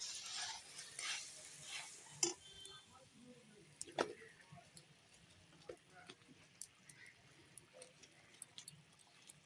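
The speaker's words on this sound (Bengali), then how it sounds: "আস্তে আস্তে কষিয়ে নিই" Cabbage and bori curry is sautéed in a pan and stirred slowly. It sizzles softly with intermittent spoon scrapes and light clinks, fairly faint and close, with a quiet voice now and then.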